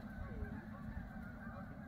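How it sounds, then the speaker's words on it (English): Geese honking in the distance at a near-empty winter campground in Pinery Provincial Park, a steady faint chorus of calls with low rumbling background noise and no talk. "You can hear the geese in the background."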